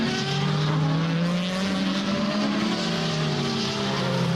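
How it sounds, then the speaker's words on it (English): A DTM race car from the 2010 Hockenheim race drives into the pit lane on its pit speed limiter, giving a loud, steady engine drone whose pitch bends slowly, with no talk over it. "So Ekstrom comes in, of course, on the pit speed limiter"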